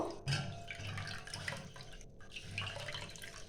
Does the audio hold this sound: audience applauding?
no